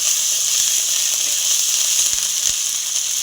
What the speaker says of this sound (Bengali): টমেটো কুচিটা হালকা ভাজা হয়ে এলে এবার দিয়ে দিচ্ছি আমি আদা বাটা